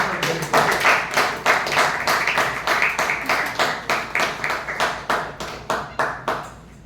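A Toastmasters club audience claps to welcome the general evaluator, with a loud, close run of rhythmic claps that fall into an even, almost unison beat before trailing off.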